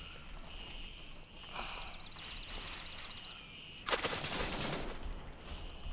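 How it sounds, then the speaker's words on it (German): Enemy gunfire in the military shooter Gray Zone Warfare, mostly distant and muted, then a sudden louder crackling burst near the end, with bird chirps and ambient outdoor noise in the background. "Ah, die schießen von vorne."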